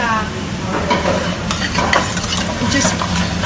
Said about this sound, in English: So we're just wanting to fry off that lamb, stir it around